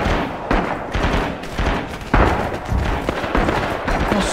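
Rapid bursts of rifle and machine-gun fire in the WWII shooter Rising Storm Red Orchestra 2, near and loud, with shots stacking into a dense, continuous fusillade and heavy thuds throughout.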